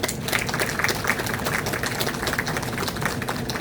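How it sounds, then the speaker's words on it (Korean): An audience applauds at a Korean corporate groundbreaking ceremony, producing steady, dense clapping from many hands throughout. "박수 감사합니다"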